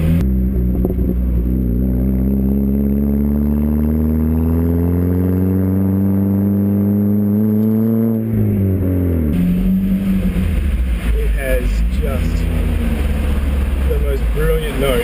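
Project car engine revving inside a tunnel, a loud rising harmonic engine note that climbs over several seconds, then drops and settles into a rougher idle with echo.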